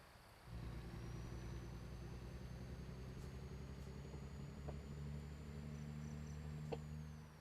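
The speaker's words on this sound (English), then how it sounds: "I just heard crickets." Crickets chirp in a steady, faint chorus within American Truck Simulator, blended with the constant low hum of an idling truck engine.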